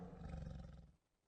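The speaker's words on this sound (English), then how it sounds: "tiger" A tiger gives a single deep, rumbling roar lasting about a second before cutting off, close and dominant with no speech.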